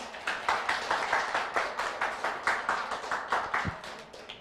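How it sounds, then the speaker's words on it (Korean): An audience at a delegates' general assembly and forum claps to welcome the city mayor. The claps come as a fairly regular, rhythmic series of close, crisp strikes that continue for several seconds. "큰 박수로 맞아주시기 바랍니다"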